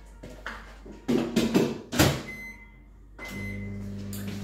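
A microwave oven melting 120 g of butter, with a few clunks and taps as the door opens and shuts, then the oven's steady low hum starting up close by; no speech.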